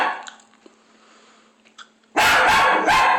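Several loud, close dog barks come in a quick burst at the end, after a quiet stretch of low room hum. The dog is inside a grandmother's house, sitting in a shower.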